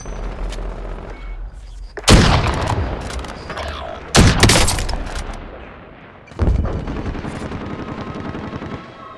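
Gunfire in the video game Warzone on Rebirth Island: three loud, sharp bursts of shots with booming tails, separated by quieter stretches of distant firing and ambient rumble.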